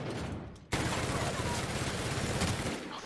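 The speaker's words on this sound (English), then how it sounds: "Or we can just shoot first." Sustained gunfire in The Outer Worlds erupts suddenly after a brief quieter lead-in, then continues as a dense, loud barrage of shots for the rest of the clip, with no speech over it.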